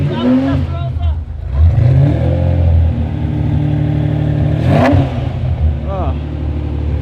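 A Maserati MC engine with a Urutu X-pipe exhaust revs in a steady, loud, close drone, with one sharp blip near the end and people talking over it.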